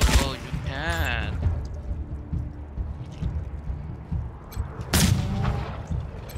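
Gunfire in the Wasteland 3 video game, with sharp bursts of shots and impacts scattered among ambient game sound, a distinct loud burst near the end, and voice-like sounds early on.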